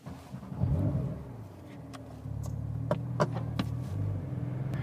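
A 2025 Porsche 911 992.2 Carrera S pulls away on a drive, its engine a steady low rumble that swells around the two-second mark, with a few faint clicks and ticks from the cabin over the drone.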